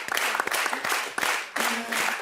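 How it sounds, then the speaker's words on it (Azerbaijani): A studio audience in a television talk show breaks into bursts of clapping, with several swells and dips of applause over a couple of seconds and no speech. "Gəlin alqışlarla çağıraq."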